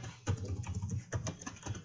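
Computer keyboard typing in bursts of quick, close keystrokes over about two seconds, with short pauses between runs of keys.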